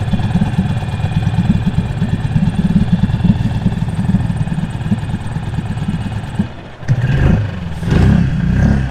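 A small boat outboard engine, choke pulled, runs steadily with a rough, rattling drone, then briefly cuts out and sputters back, revving unevenly near the end.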